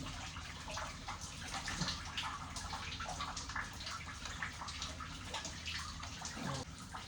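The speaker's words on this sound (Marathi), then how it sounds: "आता आंघोळ करतो." Water runs steadily during a bath at home, a continuous close splashing wash with scattered drips and no talking.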